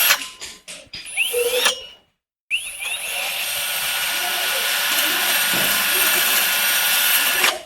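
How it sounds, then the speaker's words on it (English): A cordless electric drill with a wall bit whirs in short bursts, then after a brief gap runs continuously with a loud, steady high-pitched grinding as it drills through a wall. "First, a wall bit to create an entry point, then followed up with a smaller drill bit to pierce it fully."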